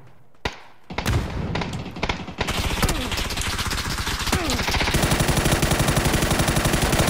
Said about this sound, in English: Somebody was shooting me from over here.